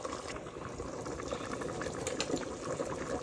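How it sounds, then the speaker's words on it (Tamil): Water splashing and gurgling into a pot of chicken biryani, a steady liquid rush heard close by at moderate volume. "இப்போ பாருங்க, தண்ணி எல்லாம் ஆட் பண்ணிட்டேன்."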